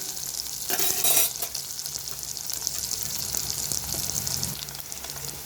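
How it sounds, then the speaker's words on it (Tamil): Onion and garlic frying in a pan while spinach is being cooked, giving a steady sizzle with stirring scrapes and a brief louder burst near the start, with no talking. "வெங்காயம் வதங்கட்டும்."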